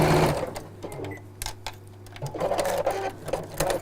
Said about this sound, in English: So again, short sides together and sew down short edges.